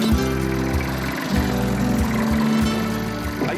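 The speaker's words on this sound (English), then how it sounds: "Not bad for a tractor that's sat for 35 years and never turned a wheel" An old tractor that sat unused for 35 years runs outdoors, its engine a steady low throbbing idle with a rough uneven beat, loud and close with no talking.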